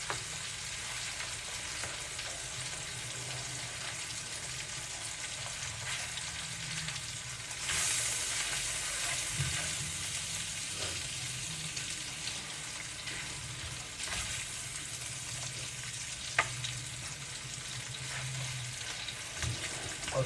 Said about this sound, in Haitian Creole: Ça c'est salami qui a frit à toute épice là.